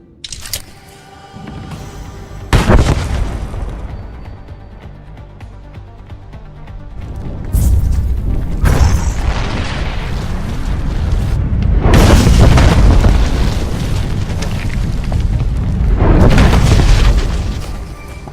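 Bomb explosions in the Star Wars: The Old Republic game boom loudly in several heavy bursts of broadband rumble, with debris and roaring aftermath between blasts, near and powerful.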